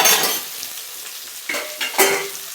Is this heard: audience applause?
no